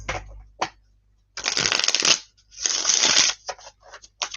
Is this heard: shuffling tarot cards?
yes